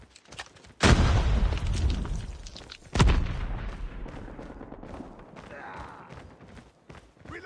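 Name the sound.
frag grenade exploding in a shooter video game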